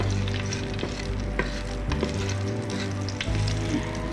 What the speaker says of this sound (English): Put in your garlic and stir fry to brown your garlic